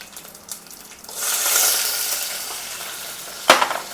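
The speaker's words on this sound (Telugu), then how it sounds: "జీలకర్ర, ఆవాలు వేసుకుంటాను. ఇవి మాడిపోతూనే ఉన్నాయి స్పీడ్గా." Cumin and mustard seeds with green chilies hit hot oil in a pan, breaking into a loud close sizzle after a second of quiet, crackling steadily and ending with a sharp clatter.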